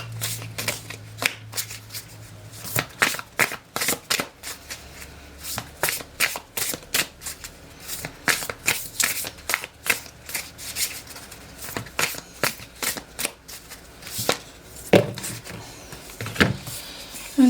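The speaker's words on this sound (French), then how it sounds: "j'ai tiré 4 cartes" Tarot cards are shuffled and drawn by hand in a rapid, steady run of riffling flicks and slaps that goes on for many seconds, close and clear, with no talking.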